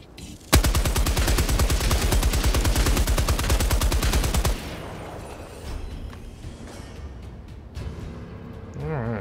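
Automatic weapon fire in Helldivers 2 rattles out as a long, rapid, evenly spaced stream of loud shots for about four seconds, then cuts off, leaving softer ambient battlefield noise and scattered distant sounds.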